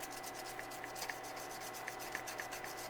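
A circuit board from a Wells Gardner K7000 arcade monitor is scrubbed with rubbing alcohol to lift excess solder paste. The rubbing is quiet, close and steady, with small rhythmic scratchy strokes over a low hum.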